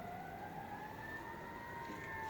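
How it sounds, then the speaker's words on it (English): Sirens from passing emergency vehicles wail steadily through a continuous rising and falling tone, moderately distant and sustained throughout, with low traffic rumble beneath and no talking. "Hold for the sirens?"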